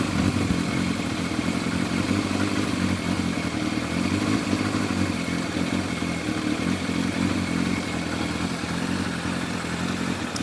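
Motorcycle engine idling steadily during carburettor balancing, a constant low mechanical clatter and hum that stays even in pitch and loudness from start to finish, with no talking.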